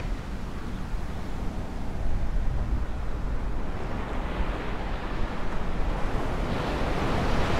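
Ocean surf rolls in continuously at Sugar Beach on Maui, Hawaii, a loud, steady wash of breaking waves with wind buffeting the microphone throughout.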